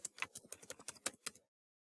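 Fast keystrokes on a computer keyboard as a SQL command is typed, about a dozen crisp clicks in an irregular burst lasting just over a second, close and clear, then silence.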